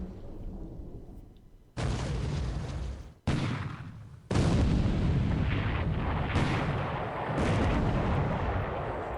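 Deep, booming naval gunfire from a World War II strategy video game set off Port Moresby in 1943, with several heavy blasts that cut in abruptly and roll on as sustained rumbling.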